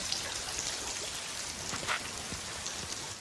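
Steady rain falling outdoors in a wild setting, a soft continuous patter with scattered drop hits, moderately faint and without voices.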